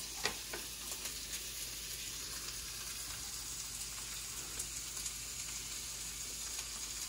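About a cup of chopped medium onion fries in a pan, giving a steady, soft sizzle with a few faint ticks and light stirring clicks. There is no talking.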